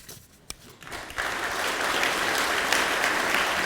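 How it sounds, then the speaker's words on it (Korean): Audience applause at a party central committee meeting swells in after a quiet moment and a single sharp knock, then continues as a steady, full round of clapping to the end. "수고하신 박준수 위원장님께 다시 한번 큰 박수 보내주십시오."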